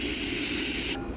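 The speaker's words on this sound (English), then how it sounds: "What I like to do is I like to spray some brake clean inside of that area." Brake cleaner sprayed from an aerosol can into the caliper pin bore of a 2008 Ford Taurus X rear brake, a loud steady hiss lasting about a second before cutting off sharply.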